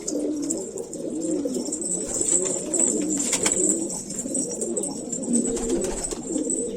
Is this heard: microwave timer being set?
no